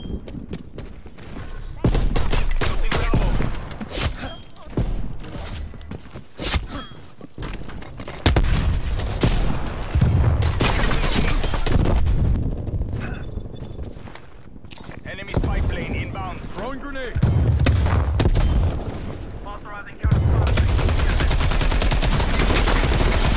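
Heavy gunfire and a grenade blast in a Black Ops Cold War match: loud bursts of rapid shooting and booms come in clustered waves, broken by brief lulls, with a player talking over the action.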